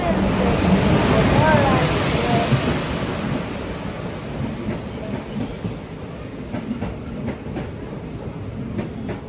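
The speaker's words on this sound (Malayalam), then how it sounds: "ഇനി ട്രെയിൻ വരുമായിരിക്കും." A train rolls into a station with heavy rumbling that settles, then high-pitched wheel squeals ring out repeatedly as it slows.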